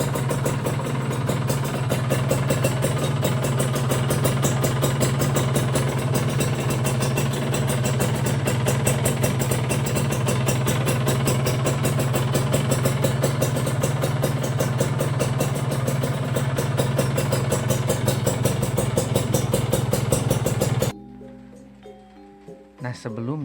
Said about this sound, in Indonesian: suara mesin Ninja itu jadi lebih kemerincing dan bulat ya